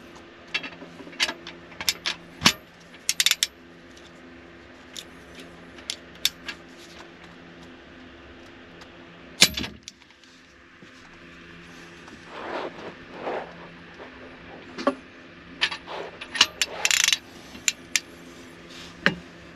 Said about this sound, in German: Das sieht so aus, als ob ich die Schraube losgebrochen hätte, also die Mutter losgebrochen hätte